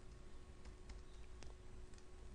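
Code being typed on a computer keyboard, quiet scattered key clicks in an irregular rhythm over a faint hum, with no talk.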